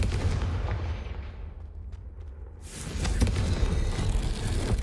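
Confringo blasting curse in the Hogwarts Legacy video game, a heavy rumbling burst that fades into a low lull before a second loud, crackling blast surges and sustains to the end.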